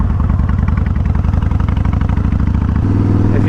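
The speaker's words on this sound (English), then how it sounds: "if you can hear that hum when I deaccelerate" A shaft-drive motorcycle named Black Betty with a failing bearing rumbles loud and close while decelerating, its low engine note carrying a steady hum that shifts pitch near the end.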